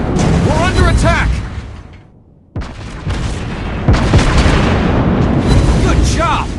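Warships in the Warships Blitz game take repeated booming gunfire and explosions, dense and loud throughout with a brief lull, while shouting voices sound over the battle.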